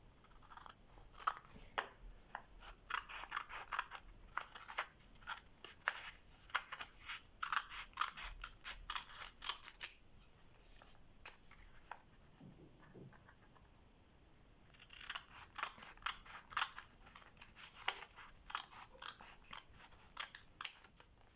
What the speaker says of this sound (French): Voilà, l'enveloppe est maintenant découpée en 4